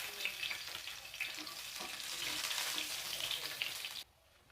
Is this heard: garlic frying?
yes